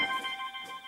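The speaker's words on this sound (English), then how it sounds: "That's the phone." A telephone rings in one short electronic burst with bright, steady tones, fairly faint and alone.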